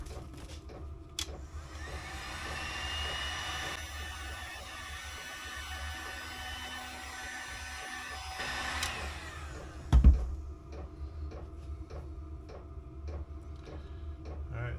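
A heat tool blows a steady whirring hiss while heat-shrink tubing is shrunk onto a small wiring harness, running for several seconds before shutting off, followed by a bump and faint ticking.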